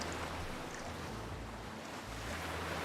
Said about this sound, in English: That ocean is loud in my ears, which isn't a bad thing.